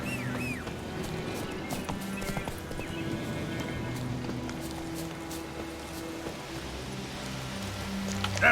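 Roach the horse's hooves clip-clopping at a steady pace in the Witcher 3 video game, with rain falling and the odd whinny over a continuous game ambience.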